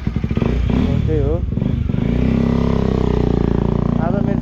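A KTM Adventure motorcycle fitted with a Yoshimura R77 full system exhaust rumbles and revs up close, its engine steady beneath someone talking over it.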